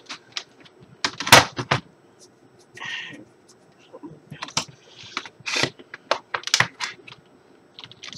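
Keys clatter on a new metal computer keyboard in quick bursts of sharp clicks and taps, loud and close, with pauses between flurries.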